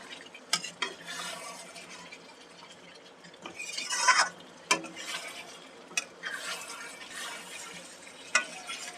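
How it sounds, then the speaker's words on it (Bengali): Chicken curry meat stirred and sautéed in a pan, with a soft spoon-scraping sizzle and intermittent clinks and scrapes of utensil against metal, moderately quiet and close with no talking. "মাংসটা আমি আস্তে আস্তে নেড়ে চেড়ে কষিয়ে নিলাম।"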